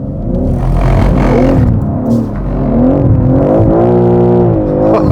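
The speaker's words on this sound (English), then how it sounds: "Maybe we should attempt donuts?" A car revving as the driver attempts donuts on a German road trip, with a loud, steady engine roar that rises and falls in pitch, swelling in rhythmic surges close by.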